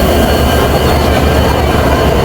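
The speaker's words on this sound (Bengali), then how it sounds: "এটি ট্রেনের ইঞ্জিন আমরা এই ট্রেনে আজকে যাচ্ছি পঞ্চগড়ে" Steady close rumble of the Banglabandha Express running along the rails, with wheel noise and faint clatter under a constant roar, heard from on board with no one speaking.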